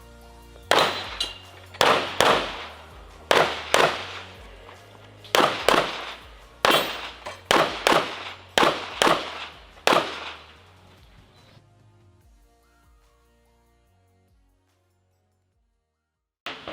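Gunshots ring out on an IPSC stage at a national shooting competition in Bulgaria: about a dozen loud, sharp reports in uneven bursts, each with a short echoing tail, then a quiet stretch after the final shot.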